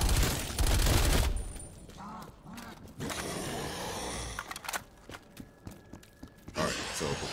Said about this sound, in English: Yep, I can do damage with this gun.